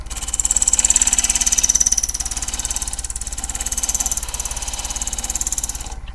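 A wood lathe turning a driftwood burl while a tool shapes it, a pulsing motor hum with a rhythmic whir and thin high scraping near the start, steady and close.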